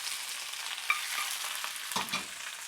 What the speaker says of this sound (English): very quickly wilt down my spinach